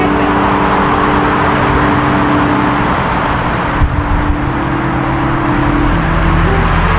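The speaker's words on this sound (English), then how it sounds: "There's only little traffic" Light road traffic rolls past outdoors, a continuous steady wash of car engines and tyre noise with a vehicle passing about midway, loud and unbroken with no talk over it.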